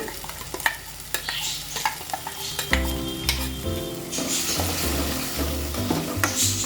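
Ground masala paste for egg sambar sizzling and frying in a pan while a spoon stirs it, with steady close sizzle and repeated scraping strokes; background music plays underneath.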